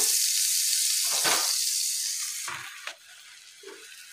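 A buttered grill sandwich toasting in a hot pan gives a loud, steady sizzle that eases off and settles into a quieter crackle, with no talking.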